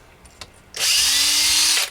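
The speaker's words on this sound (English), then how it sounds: "So I'm just going to drill the holes that we marked." A power drill whirs loudly at close range for about a second, drilling screw holes, starting abruptly after a few faint clicks.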